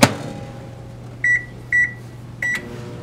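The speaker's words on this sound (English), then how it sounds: "Put it in the microwave for about 15 seconds." A microwave oven with a glow stick inside hums steadily at close range after a brief clunk, then gives three short electronic beeps at even intervals.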